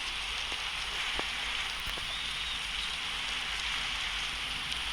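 Continuous bright hiss of rain in the video game 99 Nights in the Forest, pattering on a surface, steady and even, with a few faint clicks scattered through it.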